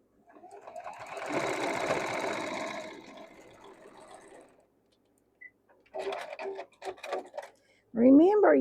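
A sewing machine stitches a seam on a modern quilt block, running in a steady burst of several seconds. It stops, then short bursts of talk and a quick higher-pitched sound follow.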